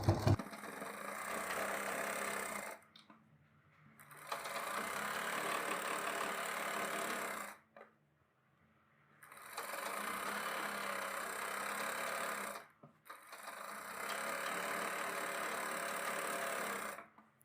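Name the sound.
sewing machine stitching a salwar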